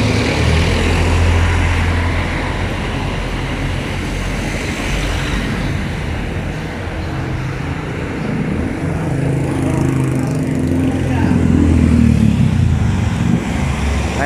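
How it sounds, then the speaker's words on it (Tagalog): Steady road traffic of cars and motorcycles flowing freely on an uncongested road, a continuous loud engine rumble and hiss with rising passes near the end, no voices. "nakakausad na dumadaloy na patuloy yung mga sasakyan"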